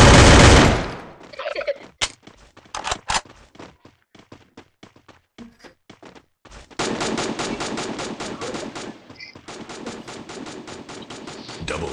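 Gunfire in the mobile battle royale game Free Fire: a loud opening burst, then scattered single shots and short bursts, followed by long sustained automatic fire close up, with faint voices in the mix.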